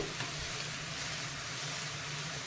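Apple pieces fry in ghee for apple halwa, giving a steady, even sizzle that holds at moderate loudness throughout, with no voices.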